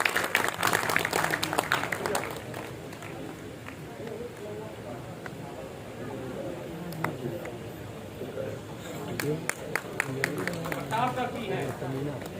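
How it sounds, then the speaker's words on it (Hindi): Audience applause welcoming a speaker to the stage at a memorial event, a steady patter of many hands clapping throughout, moderately distant, with voices talking over it. "तालियां बजा करके कृपया स्वागत कीजिए"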